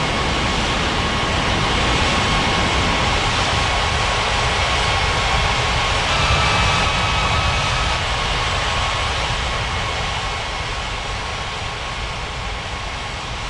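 A jet aircraft engine in the Unmatched Air Traffic Control game drones steadily and loudly throughout, a constant roar with a faint whine and no voices.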